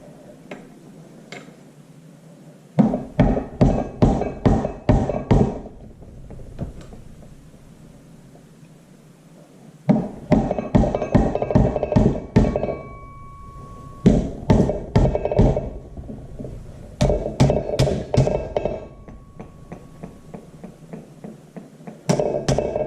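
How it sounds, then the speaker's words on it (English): Bursts of rapid metallic hammer taps on the belt pulley of an IHC Farmall Super MTA tractor, about eight quick strikes each, repeating in several rounds with brief pauses between, close and sharp. "Use this hammer."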